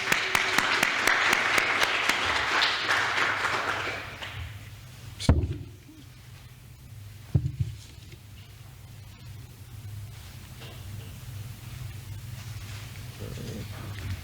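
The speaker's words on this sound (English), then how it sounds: "So a round of applause for the Energy Commission." A short burst of clapping at a community energy forum, applauding the Energy Commission, fades out over a few seconds, followed by a couple of thumps and low room rumble.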